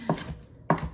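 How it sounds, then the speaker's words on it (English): Knife chopping pickles, onions and tomatoes on a cutting board, two sharp close thuds about half a second apart, no voices. "We're gonna start chopping."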